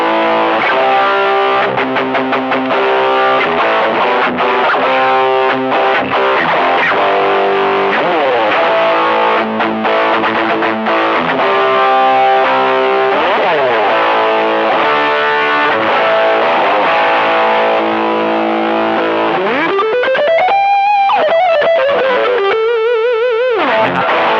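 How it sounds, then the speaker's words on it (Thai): Heavily distorted electric guitar chugging and sustaining chords at high gain, ending with bending, wailing notes; loud and steady throughout. "พอใส่เสียงแตกไฮเกนเข้าไปจะเป็นแบบไหนลองฟัง"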